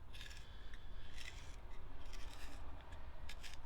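Quiet snipping and rasping of cheap scissors working through stiff plastic, a few short cutting bursts over soft background noise.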